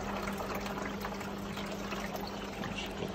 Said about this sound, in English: You can hear it starting to drip here, then it won't be long.